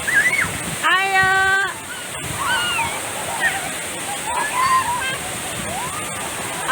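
Waterfall at Bayang Sani with people swimming and splashing, a steady rush of falling water throughout, with voices, shouts and a short whistle-like call over the roar.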